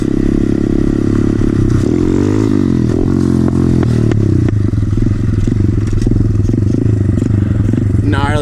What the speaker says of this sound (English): Gnarly backfires.